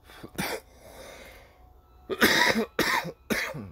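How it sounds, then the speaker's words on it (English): Several harsh, close coughs: one early, then a cluster of three loud coughs in quick succession after a short quiet pause. "Pardon the coughing this morning."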